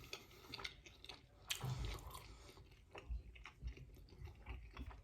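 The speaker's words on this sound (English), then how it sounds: "Let me eat a little bit." Close, wet chewing and biting of pizza with cheese and meat, soft crunches and squishes recurring irregularly with no talk.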